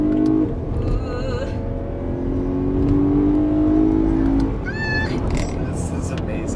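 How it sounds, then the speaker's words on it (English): A BMW M3 blips its engine in a quick downshift and brief rev, the car's drone and climbing engine tones running under steady conversation inside the cabin. "I like it when he downshifts. The thing revs up very briefly."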